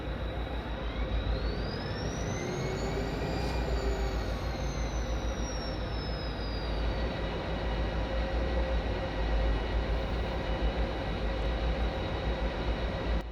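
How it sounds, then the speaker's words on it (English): An F40PH diesel locomotive starts up in Train Simulator Classic, a dense steady engine rumble with a thin rising-then-falling whine layered on top, continuous and loud with no talking. "and that will start the locomotive up."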